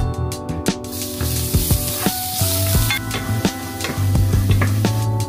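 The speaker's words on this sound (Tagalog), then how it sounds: "magigisa muna ako ng garlic" Garlic sautés in cooking oil in a pan with a bright, crackling sizzle, broken by sharp stirring clicks and taps, over a steady tonal hum in the background.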